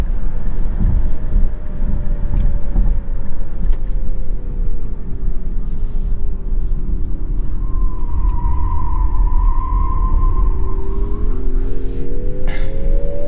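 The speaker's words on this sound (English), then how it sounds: "in Sport mode we got some fun throttle noise there" A 2023 Nissan Ariya electric car accelerating in Sport mode with stability control off, its synthetic throttle tone rising steadily as a smooth whine over heavy road and wind rumble, loud and continuous for the whole stretch.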